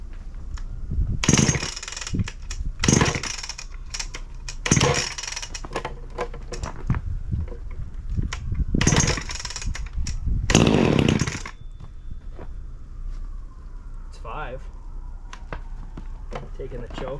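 A vintage Roper chainsaw is pulled over from cold with repeated sharp cranking bursts that sputter briefly, loud and close, before the sounds fall away to a quiet background.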